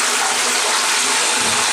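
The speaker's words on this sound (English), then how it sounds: "Now it's time to flush anyway." A dual-flush toilet lets out a loud, close, steady rush of water that holds strong for almost two seconds and then cuts off abruptly.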